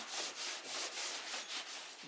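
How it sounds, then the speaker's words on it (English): Rubbing alcohol is wiped over the hatch mounting area during a triple latch hatch installation, giving repeated close, rhythmic cloth-rubbing strokes with no talking. "I'm going to go over the same area with rubbing alcohol"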